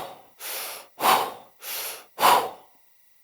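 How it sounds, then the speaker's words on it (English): Two rounds of big breaths through the mouth, each a long airy inhale followed by a heavier, forceful exhale, close and distinct with short pauses between. "inhaling big through the mouth, exhaling big through the mouth. It's going to sound just like this."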